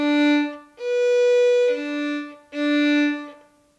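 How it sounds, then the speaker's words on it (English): Violin plays bowed quarter notes, two slurred on a down bow and then one on an up bow, with sustained harmonic-rich tones and short gaps between strokes, close and clear with no talking. "Here we have 2 quarter notes that are slurred on a down bow bow stroke followed by an up"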